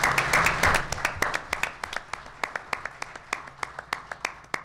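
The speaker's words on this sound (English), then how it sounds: "A round of applause for David, please" A Sarnia Sting hockey ownership event crowd claps for a former player, starting as a mixed burst of applause and quickly thinning to a few distinct, evenly spaced loud claps close by.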